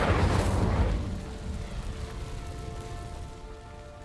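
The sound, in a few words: Incendio fire spell burning dry vines in video game Hogwarts Legacy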